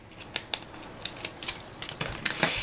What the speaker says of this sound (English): And then I'll trim off the excess with a pair of sharp scissors.